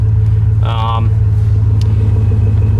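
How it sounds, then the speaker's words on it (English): A 2004 GMC Sierra 1500 truck engine idles with a steady low rumble throughout, with a brief higher tonal burst partway through and a faint ticking knock from an exhaust manifold leak. "You hear a little bit of knock from the manifolds. That's just an exhaust leak"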